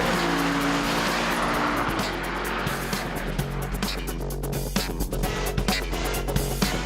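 An Audi R8 with Quattro all-wheel drive races up a hillclimb course, its engine loud and close as it revs through gear changes, with brief tyre chirps and rasping bursts as it pulls away.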